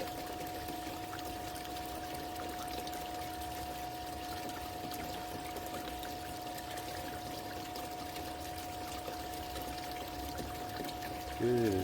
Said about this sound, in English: I'll do a bit of a test with the spoon, see if it's running down the centre of the sluice